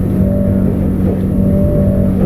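A Blue 22 Ocean Pro 2020 boat's engine is opened up and held at high RPM, a loud, steady droning roar with a sustained tonal whine, close and continuous with no talking.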